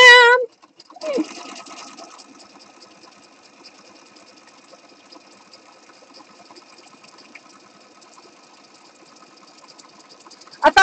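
Sewing machine stitching pages of a paper journal, starting with a brief burst of talk, then a faint, even mechanical whir and needle ticking running quietly for several seconds.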